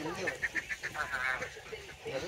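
Geese honk in a quick series of short, loud calls, roughly five or six in a row, then a rougher trailing call, recorded close by at a place selling duck curry.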